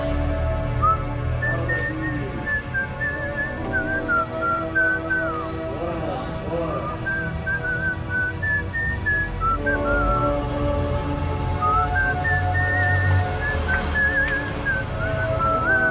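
A person whistles an old Bollywood song, the melody wavering and sliding clearly above a busy background of low sounds and faint voices, carrying on for most of the stretch.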